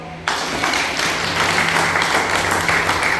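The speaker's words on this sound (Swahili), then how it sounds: "kama umeelewa piga makofi kwa Bwana" A church congregation breaks into loud, sustained applause that starts abruptly and holds for several seconds, a dense wash of many hands clapping together.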